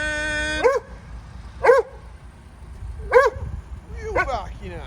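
A dog barks four times, spaced a second or so apart, each bark sharp and mid-distance over a quiet background.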